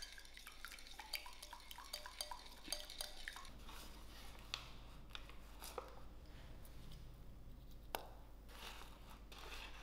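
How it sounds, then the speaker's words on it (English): A spoon clinks and scrapes inside a mug while chocolate mug cake batter is mixed, a steady run of small sharp taps and clatter at close range, fairly quiet, with no voices. "I'm going to give this a nice good mix."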